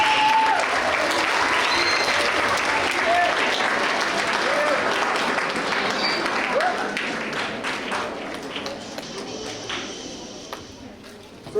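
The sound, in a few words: applause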